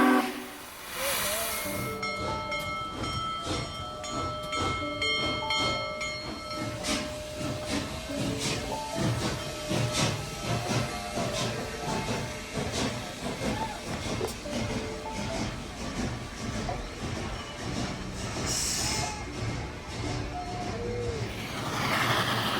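Union Pacific Big Boy 4014 steam locomotive on an anniversary tour across America, with loud continuous steam hiss, rhythmic chuffing and rail clatter, and a long steam whistle blowing throughout.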